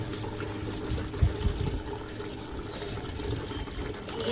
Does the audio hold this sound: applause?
no